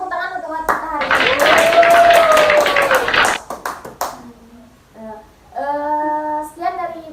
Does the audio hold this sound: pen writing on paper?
no